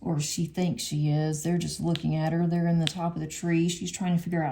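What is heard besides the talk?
No distinct noise like a dog, phone or traffic.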